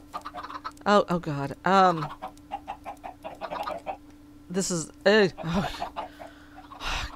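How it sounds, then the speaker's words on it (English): Chickens cluck in the Crundee Craft video game, several short bursts of fowl calls spaced through a steady background hum while someone talks over them. "that's enough chickens"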